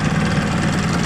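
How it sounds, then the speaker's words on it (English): A 1989 15 hp Gamefisher outboard motor runs slightly rich and smoky, a steady close low engine drone with no pauses. "second pull it started. A little smoky, I think it's running a little rich."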